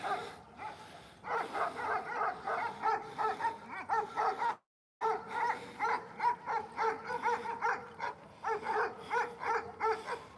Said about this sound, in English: these dogs are being kind of loud